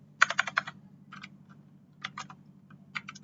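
A computer keyboard types out a ping command in short clustered bursts of crisp key clicks separated by brief pauses, close and alone over a low steady hum.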